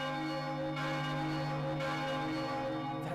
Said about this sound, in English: bell... Is it coming from the clock tower?